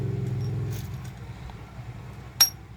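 Keys jangle and clink while a door knob lock is worked, with a soft metallic rattle early on and one sharp, bright clink near the end against a low background hum.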